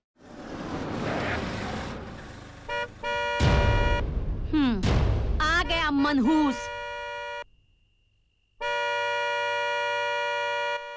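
A car horn blares in long, steady, harsh blasts during a Hindi film scene, first amid loud shouting voices and engine noise, then after a brief pause as one sustained honk alone.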